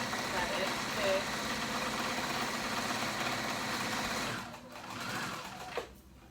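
A sewing machine runs a continuous edge stitch on kids' moto pants, a steady close mechanical whir for about four seconds before slowing and stopping, with a brief clunk near the end.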